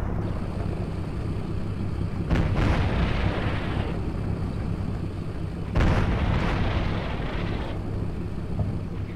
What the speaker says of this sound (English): we see another AT-14 being fired